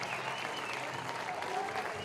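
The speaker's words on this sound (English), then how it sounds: "A nice round of applause for Ben Hampton" Steady applause from a crowd at a minor-league baseball game, a dense patter of clapping that holds evenly throughout, with a voice speaking underneath.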